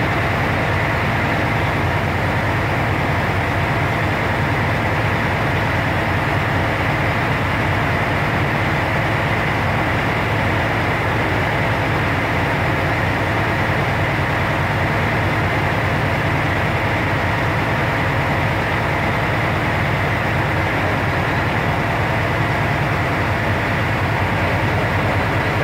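A truck's air system builds pressure toward 120 with a loud, steady, broadband rushing hiss and engine rumble that holds unchanged for the whole stretch; the air dryer pop-off valve's release is not distinct.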